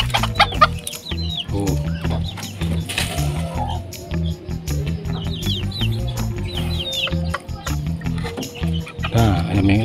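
Bantam chickens cluck and peck close by in a busy yard, with repeated clucks over low grunting, scuffling and brief speech.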